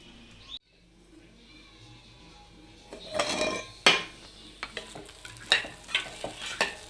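Undrallu upma being stirred and fried in a pan on a stove: a quiet start, then a run of sharp scraping and clinking strokes from the spoon against the pan over a soft sizzle.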